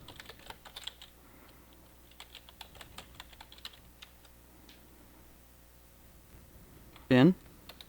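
Quiet, scattered clicks of keys as a password is typed on a computer keyboard, soft and close, followed near the end by a brief louder sound.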